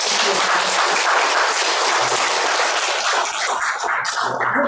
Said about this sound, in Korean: 우리 신림 중창단에게 크게 박수 한번 부탁드립니다